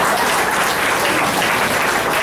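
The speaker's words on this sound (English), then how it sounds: "Let's give her another big round of applause." Steady, dense applause from a crowd, continuous clapping filling the whole stretch without pauses or voices.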